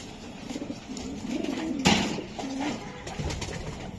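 White racer pigeons coo steadily at close range, a continuous soft burbling with a sharper burst partway through, and no talk over it.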